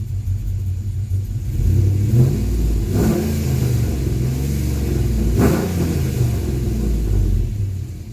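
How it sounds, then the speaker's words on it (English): A Ram R/T truck engine idles close by with its exhaust cutout closed, a deep, steady rumble with a couple of brief swells in revs, continuous and without talking. "right now we're idling with the cutout closed"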